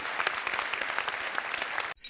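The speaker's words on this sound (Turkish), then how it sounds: "onun için öyle bir alkış alayım" Studio audience applause on a Turkish comedy talk show, a dense steady round of clapping that carries on at even loudness before cutting off abruptly near the end.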